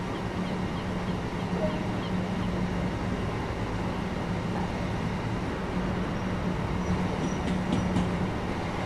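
Exterior of a train in Train Sim World, a steady low rumble with humming tones and faint metallic squeals, continuous and moderately loud with no voices.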